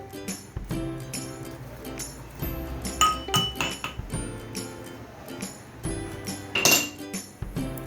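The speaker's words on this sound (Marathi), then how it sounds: "मी ह्या लसणीच्या पाकळ्या आहेत ना थोड्या अशा ठेचून घेते" Garlic cloves being crushed in a kitchen, a series of sharp clinking knocks and taps at irregular intervals, close and fairly loud, no talk.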